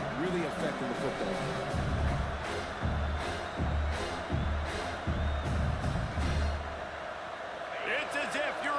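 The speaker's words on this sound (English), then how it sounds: "how nice is it to have the home crowd going absolutely bananas?" A home crowd roars in a college football video game at Williams-Brice stadium, a loud, steady wash of noise with rhythmic thumping pulses and game commentary voices talking over it.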